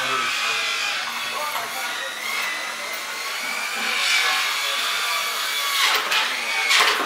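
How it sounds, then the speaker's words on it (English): Construction workers cut material outdoors during a shelving build-out. A sustained, buzzing saw-like whine swells and fades throughout, somewhat distant, with faint voices underneath. "And they're out here outside doing the cutting, it sounds like"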